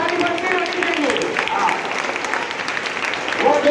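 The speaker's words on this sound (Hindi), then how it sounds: "उनके लिए ताली बनते रहनी चाहिए।" Continuous crowd clapping at an Angika poetry recitation dedicated to a daughter, dense and even for the whole stretch, with some speech mixed in near the end.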